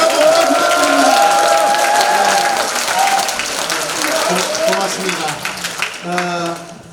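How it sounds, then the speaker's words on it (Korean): A rally crowd cheers and applauds loudly, with dense clapping and shouts over music, filling the space before tapering off toward the end. "함성과 함께 박수 한번 부탁드립니다"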